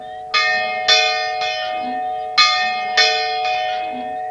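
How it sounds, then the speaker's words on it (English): Old church bells ring out in clear, bright peals, six strikes in two groups of three, each tone ringing on and decaying over a steady low hum, with no voices. "That was the first thing I wanted to try when I walked in here, was to see if the bells still worked."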